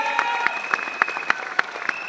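An audience at a temple event gives a round of applause, a steady, loud stream of many hands clapping with sharp individual claps punctuating the roar.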